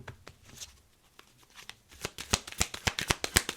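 Tarot cards being shuffled, a quiet rustle at first that builds into a brisk run of sharp, rapid riffling flicks close to the mic, with no talking.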